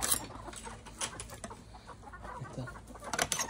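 Native chickens on a farm cluck in short, scattered bursts, close by and fairly soft, with rustling in the background.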